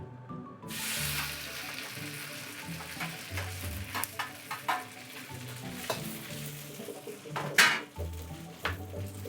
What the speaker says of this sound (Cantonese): 好啦，咁依家咧我就將啲河粉啦放落去啦。